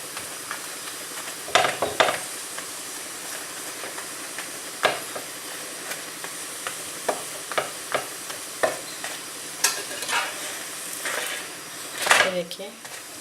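A paratha cooks in ghee in a hot pan, giving a steady soft sizzle broken by scattered crackles and spatula scrapes, with a louder burst of spitting near the end, heard close and alone.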